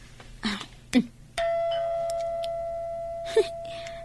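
A doorbell chimes once with a sustained ringing tone that slowly fades, following a couple of soft knocks or taps.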